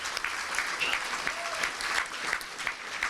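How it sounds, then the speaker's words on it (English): An awards-dinner crowd gives sponsors a round of applause, steady, fairly loud clapping spread across the room for a few seconds. "Let's give them a big round of applause."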